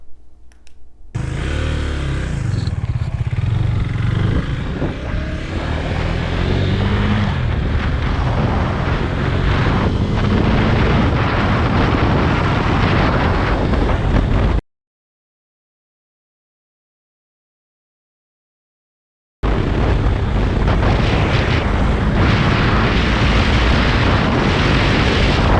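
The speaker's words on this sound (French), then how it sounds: "regardons un exemple où le bruit du vent devient plus puissant que celui du moteur" Loud, steady roaring wind buffeting a motorcycle helmet at speed, drowning out the engine, then a sudden break into silence for several seconds before the same dense rush returns.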